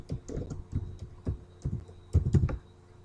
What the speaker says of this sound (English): Here you have to type a description